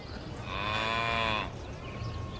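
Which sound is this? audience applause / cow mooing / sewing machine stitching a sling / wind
cow mooing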